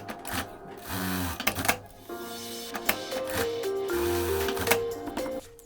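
Sewing machine stitching the hem of a back pocket on flare trousers, running in short whirring bursts with brief stops between, close and clear with no talking.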